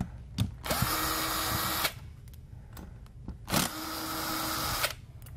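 A power drill runs in two long, loud bursts, backing screws out of a MidNite Solar Classic charge controller, with short clicks and handling noises between the runs and no talking.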